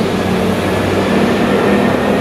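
A metro train heading to San Miguelito station in Panama City, heard from inside as a loud, steady rumbling roar with low droning hum and faint rail noise, continuous throughout with no talking.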